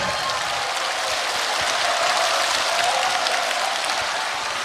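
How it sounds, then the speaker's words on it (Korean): Crowd applause at a Korean concert stage show, a steady dense wash of clapping from a large hall audience, loud and continuous for several seconds without any talk over it. "다시 한번 박수 부탁드리겠습니다"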